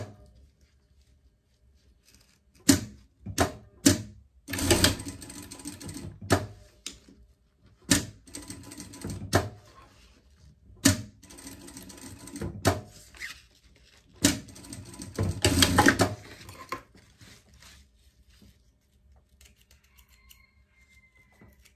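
A sewing machine stitches a seam on a pet life vest in several short, loud bursts of rapid needle clatter, separated by quiet pauses as the fabric is repositioned.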